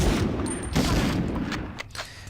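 Gunfire in the Medal of Honor video game: a brief burst of shots that crack and boom over a noisy background, with a faint voice.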